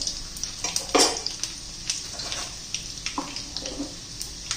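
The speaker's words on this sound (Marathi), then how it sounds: "आता मी लसूण घालून घेतलेला आहे" Garlic with cumin and mustard seeds frying in hot oil for a dried-shrimp chutney, giving a steady sizzle broken by scattered sharp crackles and pops close by, with no talking.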